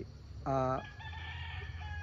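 A fighting rooster being readied for a cockfighting derby crows once in a short, loud, harmonic call, with the start of a second crow at the very end over steady low background noise.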